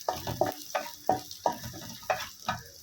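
Green chillies and coriander sautéing in a pan, with repeated stirring strokes over a steady sizzle, close and moderately loud, with no talking.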